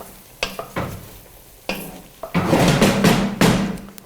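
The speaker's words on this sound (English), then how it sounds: "we're going to drop that into our pan now. Give that another good stir around." Garlic cloves drop into a stew pan for beef stew with a few sharp knocks, then settle into loud, continuous sizzling as a spoon stirs and scrapes the pan close by.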